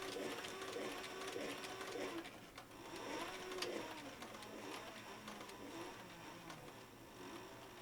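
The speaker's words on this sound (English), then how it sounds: "back downstairs again to the sewing machine and sew up the main pocket of the sheath" A sewing machine runs steadily and close by, stitching a leather knife sheath, with a continuous mechanical whir and rapid stitching rhythm and no speech over it.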